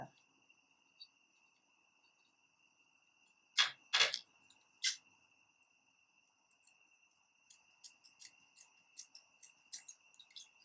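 Scissors snip material while an upcycled tin can is crafted into Fourth of July decor, giving a cluster of sharp, close cuts near the middle followed by lighter, quicker snips and rustling toward the end, with no talking.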